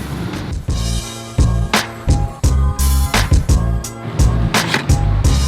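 A Koowheel V2 electric skateboard is dragged along on its rear wheels, giving a rough continuous rolling rumble broken by repeated sharp clacks and knocks, close and loud.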